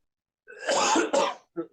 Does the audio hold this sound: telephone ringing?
no